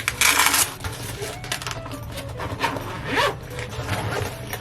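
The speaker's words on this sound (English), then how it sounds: "So it's Velcro and zipper." Velcro and a zipper on a camcorder case being handled at close range, with crackly ripping and rustling bursts and a brief rising zip, alone without talk.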